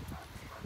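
A dog gives short, soft whimpering yips, close and brief, with faint background noise and no talk.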